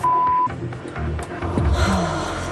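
A single steady censor bleep tone lasts about half a second on a reality TV driving show, then cuts off into muffled background noise.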